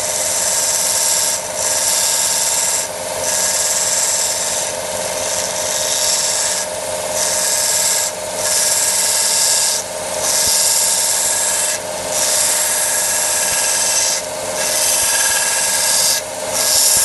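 A ring sanded with a sander mounted on a very powerful drill clamped in place, giving a steady loud whirring rasp that swells and dips in regular pulses, with no talk.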